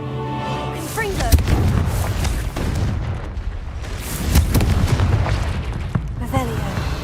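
Fiery blasts from the Confringo spell in the video game Hogwarts Legacy: a run of loud, heavy booms and crackling bursts follows one after another over a rumbling, busy game soundscape.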